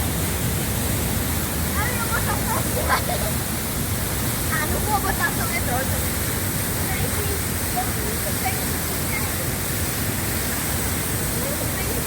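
Waterfalls on the Antas river, one falling in front of another, giving a constant loud broadband rush of water throughout, with people talking over it.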